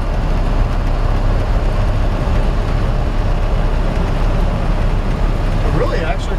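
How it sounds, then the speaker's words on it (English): Loud, steady road rumble of a 1955 Chevy 3100 pickup truck driving, engine drone and loose rattling blended into one continuous noise with no talking. "Of course, it's got a couple of old truck rattles to it."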